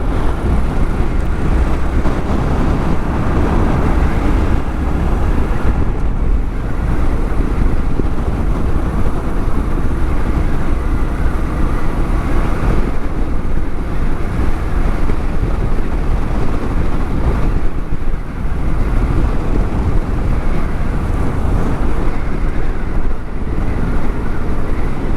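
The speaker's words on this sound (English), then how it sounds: "It's getting windy." Strong wind in the aftermath of Hurricane Beryl in Katy, Texas buffets the microphone outdoors, a loud, continuous low rumbling rush with gusty surges throughout.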